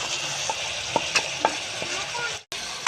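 Turnip sabzi with spices sizzles in a pan as a spoon stirs it, soft scraping strokes and light taps over a steady frying hiss, with a brief drop to near silence near the end.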